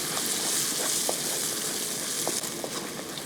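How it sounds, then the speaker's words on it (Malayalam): About twenty-five small onions (shallots), roughly half a cup, sizzle loudly in hot oil as they are stirred, a dense, steady frying hiss up close. "ഇനി നമുക്ക് ആ എണ്ണയിലിട്ട് തന്നെ ഇതേപോലെ ഒരു പത്തിരുപത്തഞ്ച് ചെറിയ ഉള്ളി അതായത് ഒരു അരക്കപ്പ് ചെറിയ ഉള്ളി അങ്ങോട്ട് ഇട്ട് കൊടുക്കുക"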